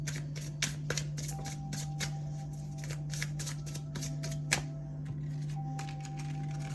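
Synchronicity cards are shuffled softly in a string of quick light riffles and taps over a low steady hum, fairly quiet and close, with no talking.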